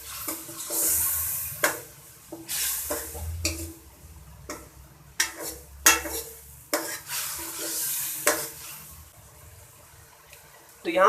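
Tomatoes and a little water added to a pan of browned onions and masala for an aloo baingan curry, frying with a steady sizzle while a spoon stirs and scrapes in repeated clacks, close and fairly loud.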